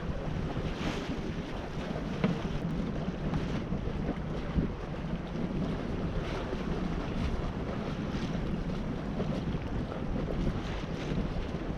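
A small sailboat under sail on a solo passage, pointing close to the wind, with steady rushing wind and water noise and continuous wave wash against the hull throughout, fairly loud and unbroken, no voices.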